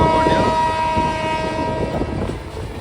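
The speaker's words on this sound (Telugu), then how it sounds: "కేఎస్ఆర్ బెంగళూరు వచ్చేసి మన సంఘమిత్ర ఎక్స్ప్రెస్ ట్రైన్" The Sanghamitra Express from KSR Bengaluru rolls past loudly with a sustained horn blast and rumbling wheels, the noise gradually easing toward the end.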